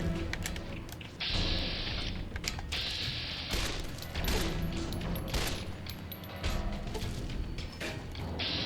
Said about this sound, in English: They're firing on us already.